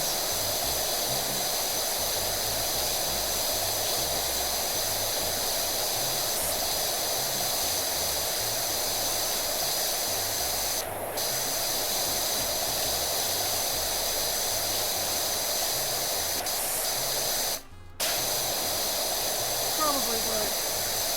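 In PowerWash Simulator 2, a pressure washer fitted with the green nozzle sprays in one long, steady hiss of broadband noise that runs almost without a break, with one short dropout near the end.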